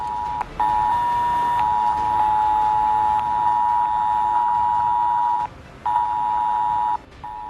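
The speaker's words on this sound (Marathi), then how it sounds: "अनेकांच्या मोबाईलवर सायरन सारखा जोरात आवाज आला" A mobile phone emergency alert siren sounds during a nationwide emergency alert system test: a loud, steady electronic tone that drones continuously, broken only by a few brief gaps, with no talking.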